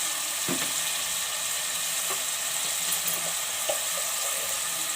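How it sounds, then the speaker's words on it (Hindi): Tomatoes and minced meat for keema fry in a pan with a steady, close sizzle, broken by a few soft clicks and stirring scrapes. "टमाटर डाल के हम चलाएंगे 1 से 2 मिनट और मज़ीद भूनेंगे इसे हम।"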